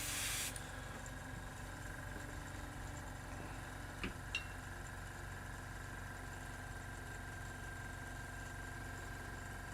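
An airbrush sprays paint onto Khorne Daemons miniatures: a brief louder burst, then a steady faint hiss over a low compressor hum, with a couple of small clicks.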